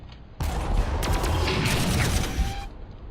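Heavy gunfire from a big gun in a tabletop wargame simulation, firing in a dense, continuous burst of cracks and booms for a little over two seconds, loud and close, with no voices over it.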